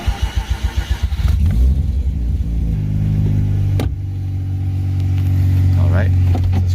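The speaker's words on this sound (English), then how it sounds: "First start on the Greddy turbo." A Mazda RX-8 rotary fitted with a Greddy turbo cranks with several rhythmic starter pulses, fires up and settles into a loud, close, buzzing idle, then rises in a rev.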